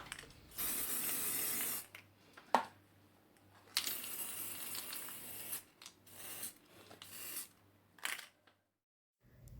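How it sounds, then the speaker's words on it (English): A spray can lays a white base coat on a squishy toy in short, close hissing bursts of several seconds each. Small clicks and handling knocks fall between the bursts. "I just so happen to have some spray paint left over"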